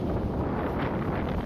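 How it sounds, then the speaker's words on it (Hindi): Strong wind blows hard and steadily through a place with many trees and plants, buffeting the microphone with a continuous loud roar. "ओ हाया तेज हवा।"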